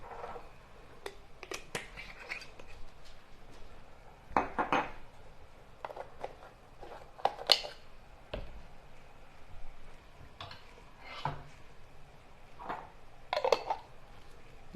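Dishes and utensils being cleaned up in a home kitchen while chicken simmers, with scattered clinks and clatters of pots, cutlery and glass at an irregular pace, fairly close and moderately loud, and no talking.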